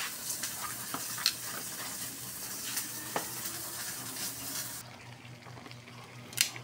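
Chayote shoots being sautéed in a pan, a steady close sizzle and crackle with scattered spatters and stirring clinks, no talking over it.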